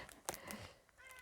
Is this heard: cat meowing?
yes